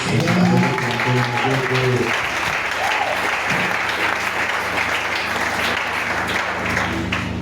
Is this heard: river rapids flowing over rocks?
no